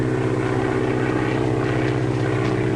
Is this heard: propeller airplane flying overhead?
yes